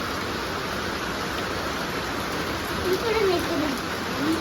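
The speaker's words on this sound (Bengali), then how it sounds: "সকাল সকাল বৃষ্টি শুরু হয়ে গেল" Steady morning rain falling outside a rented house with a garden, a continuous broadband hiss of drops at an even level, with a faint brief bird-like chirp near the end.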